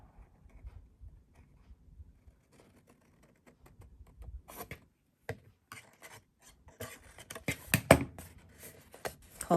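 Scissors cutting paper squares for a note card holder craft, with scattered snips and rasping cuts growing busier and louder toward the end, close and alone.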